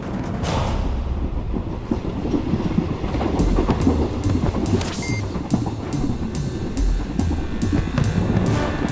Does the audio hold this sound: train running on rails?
yes